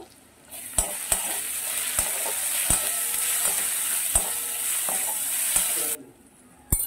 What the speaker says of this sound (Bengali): পেঁয়াজ আর রসুনটা আমার খুব ভালো মতো ভাজা হয়ে গেছে